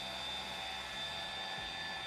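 Budget Amazon juicer running while juicing green apples, a steady whirring motor hum with a high whine, constant and fairly faint.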